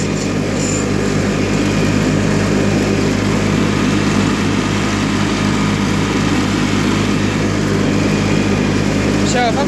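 A John Deere 316 lawn tractor mowing a field, its engine droning steadily and loudly close by with sharpened new blades cutting, unchanging throughout.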